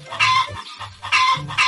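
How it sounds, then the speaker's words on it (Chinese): A rooster crows loudly and close by in two or three strained, clucking bursts separated by short gaps, with no voices. "他清早的哪来的鸡鸣？"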